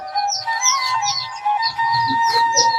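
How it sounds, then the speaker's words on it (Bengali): Tiger chicken chicks at a hatchery give high, thin peeping chirps, many overlapping in a continuous close chorus, with no voices. "ভাই দেখেন আমাদের এই যে টাইগার মুরগির বাচ্চা পাচ্ছেন"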